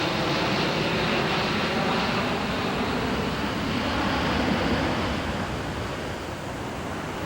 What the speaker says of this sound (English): equipment has been installed to monitor the noise of the aircraft.